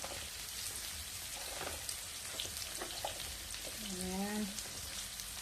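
Garlic fries in a pan with a steady, moderately close sizzling hiss, like light rain on a surface, and a brief tonal squeak near the end.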